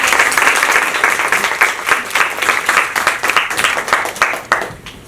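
An audience at a professional marketing talk breaks into sustained, loud applause welcoming a guest speaker, dense clapping that thins toward the end.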